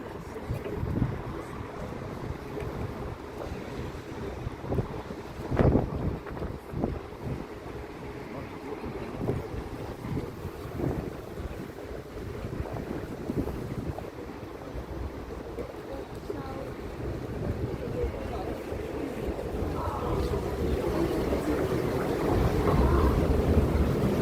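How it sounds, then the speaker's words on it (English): Canal tour boat moving through old Copenhagen, a low steady engine and water rumble with wind buffeting the microphone, building slightly louder toward the end, faint voices in the background. "We're now sailing into the old part of Copenhagen where we came from."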